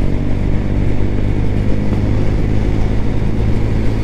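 A Honda CB 125 Hornet motorcycle engine drones steadily during a night ride, a loud, close, even low rumble with constant wind roar and no clear revving.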